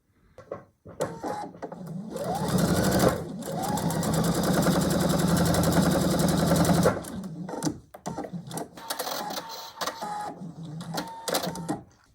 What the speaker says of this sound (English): Flip and check, and it fits, and then I'll go and sew that.